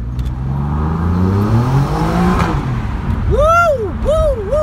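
An Alfa Romeo Giulia Quadrifoglio accelerates hard, its engine rising loudly in pitch through the revs, then snapping through quick successive gear changes with sharp up-sweeping bursts, close and powerful.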